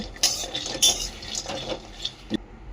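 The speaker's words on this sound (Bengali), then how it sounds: "কড়াই দিয়ে দিয়েছি, এবার ড্রাই রোস্ট করে নিচ্ছি হালকা করে" Rice and mung, masoor and chickpea lentils are dry roasted in a wok, stirred with a utensil that scrapes and clinks against the pan in several sharp, close knocks.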